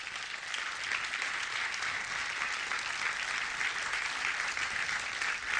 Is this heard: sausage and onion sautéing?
no